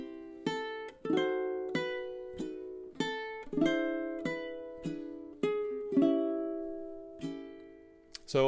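Close, clean ukulele plays measures 14 through 17 of a song, a dozen or so plucked chords with a few passing filler notes, each ringing and fading before the next.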